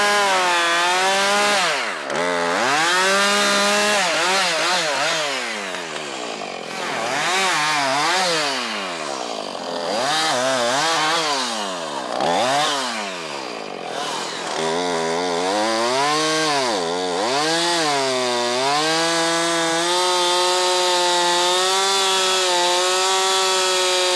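A chainsaw cuts down a pine tree, loud and close, its engine revving up and down in repeated surges as it bites through the wood and idles briefly between cuts, with no voices.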